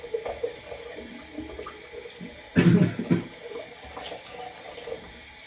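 Water runs from a tap into a sink in a steady close trickle, swelling into a louder splashing gush for about a second midway before settling back.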